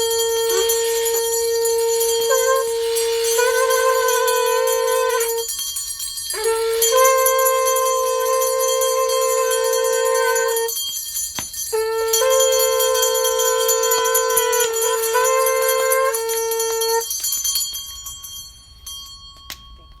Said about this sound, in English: Okay, conch and bells time.